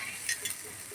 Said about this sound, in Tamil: 2 நிமிஷம் நல்லா மசாலா நல்லா கிளறி விட்டு